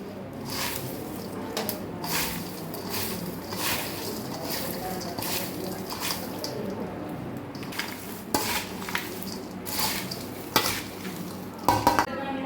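Gujarati chevdo snack is stirred and mixed in a pan, with rhythmic scraping and rustling strokes over a faint sizzle and a few sharp utensil clinks toward the end.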